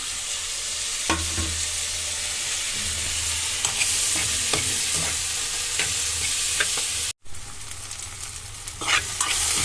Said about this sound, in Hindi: तो प्याज हमारा फ्राई हो गया है, अब इसमें हम ऐड कर देते हैं भिंडी